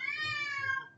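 A pet cat gives a single drawn-out meow, clear and close, with strong harmonics that slowly fall in pitch before it fades out.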